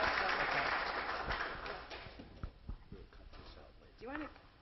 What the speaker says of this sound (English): So a round of applause, please, for Jeanette McKinley.